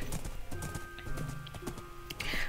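Horse hooves clip-clopping in the video game Minecraft, a steady run of close, moderately loud hoof steps with a faint whinny-like tone, heard alone without talk.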